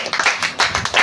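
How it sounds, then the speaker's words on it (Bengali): A few quick hand claps in a school magic show setting, sharp close slaps in a short rhythmic burst. "এটা 3 বার হাততালি করো"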